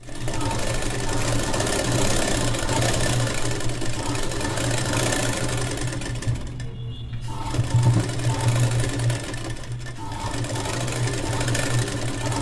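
Sewing machine stitching a border on a children's long gown, a steady close mechanical whir that runs almost continuously with one short pause midway.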